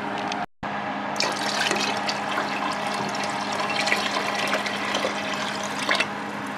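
Water poured into a soup pot while preparing beef and mushroom soup, a steady filling rush after a brief gap near the start, continuous and close with no talk.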